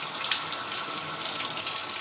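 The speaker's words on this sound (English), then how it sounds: "Simply just wash off the eggs, make sure all the stuff is off" Cold tap water runs steadily over eggs being rinsed in a sink, a loud continuous splashing gush that stays even throughout with no voices.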